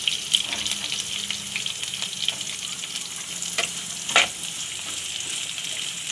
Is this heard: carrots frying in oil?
yes